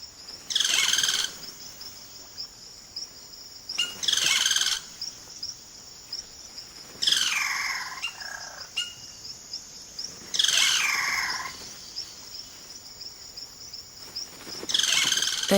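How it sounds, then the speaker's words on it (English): Cacique birds in the Amazonian forest give loud, rich calls in repeated bursts about every three seconds, mixing harsh notes with descending whistled phrases over a steady high insect drone. "The cacique males now go about the important business of attracting a partner by puffing up their plumage and showing off their remarkable vocal range"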